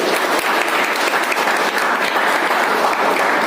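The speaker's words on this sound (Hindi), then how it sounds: "मैम के लिए जोरदार वाली तालियां बजनी चाहिए" Loud, sustained applause from an audience at a Vestige business event in Unchahar, dense clapping filling the whole stretch without pause.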